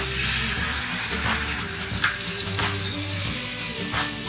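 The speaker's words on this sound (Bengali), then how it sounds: "এবার এই তেলের মধ্যে দিয়ে দিচ্ছি যে মশলার পেস্টটা আমরা তৈরি করেছিলাম সেটা দিয়ে দিচ্ছি" Spice paste hitting hot oil for a no-onion, no-garlic Bengali dahi parwal curry sizzles and fries steadily, a dense close crackle with occasional stirring scrapes throughout, no voices.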